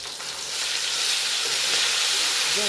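Salted meat frying in hot oil for a Haitian rice and beans dish, a loud, dense, continuous sizzling hiss close by, with no voices.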